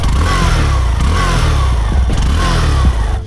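A Hero Passion Pro BS6 motorcycle's exhaust is revved up close, a loud rising and falling engine roar with a few throttle blips before it cuts off abruptly at the end.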